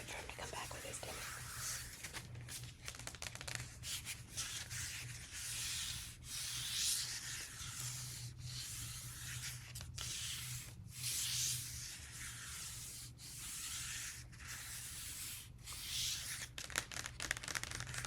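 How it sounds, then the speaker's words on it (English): Close, quiet scratching and rubbing on vinyl records for ASMR, a continuous gritty sanding texture broken by frequent short pauses and soft crinkles. A faint whisper or low murmur sits underneath. "I want to give you some more scratches"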